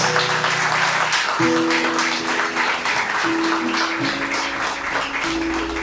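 A church congregation claps together in a thick, steady wash of applause that runs the whole time, with sustained keyboard chords shifting underneath.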